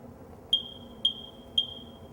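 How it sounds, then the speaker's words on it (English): A smoke detector being tested chirps three times at an even pace, each a shrill high beep ringing on briefly, loud and close. "there's a smoke detector"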